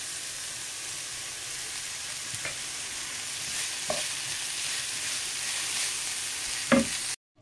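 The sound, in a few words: prawns cooking with tamarind water in a pan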